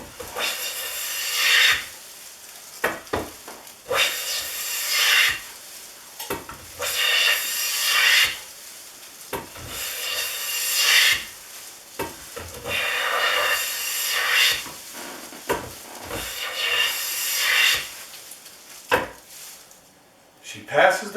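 Repeated strokes of a Stanley No. 5 1/2 jack plane across a narrow cherry workpiece, about eight steady rasping passes separated by brief knocks and gaps, close up and even in loudness.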